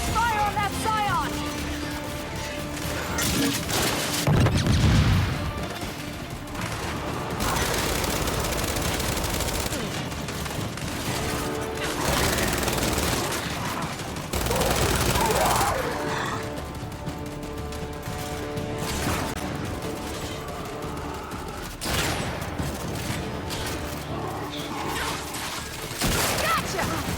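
Sustained gunfire in Gears of War 5 combat, with heavy automatic bursts and impacts running through a long battle, with voices of squad members talking over the shooting.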